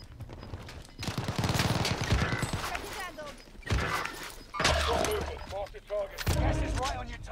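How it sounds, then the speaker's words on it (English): Bursts of automatic gunfire in the shooter game Warzone Pacific, with an AK-47 in play, crackling in several loud volleys separated by brief lulls, with voice chatter heard over the fighting. "I'm taking fire."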